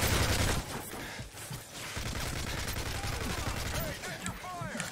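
Gunfire in Call of Duty: Modern Warfare 3, with a loud burst of rapid shots at the start followed by continued scattered firing and game effects, mixed under excited player chatter.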